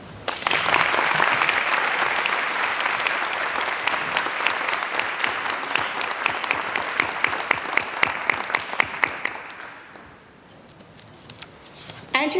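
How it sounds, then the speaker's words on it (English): A high school hall-of-fame legends ceremony audience gives a long round of applause, dense clapping that gradually thins to scattered individual claps before fading into quiet room tone. "give a Mustang round of applause to Amanda Salinas Cunningham in absentia"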